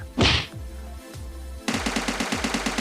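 Gunfire in the mobile game PUBG Mobile: a single loud shot first, then a pause, then a rapid automatic burst of evenly spaced shots running to the end, close and punchy.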